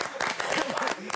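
A TV cooking show studio audience breaks into brief, loud applause for judge Giacomo Boccio, a dense burst of clapping with voices over it.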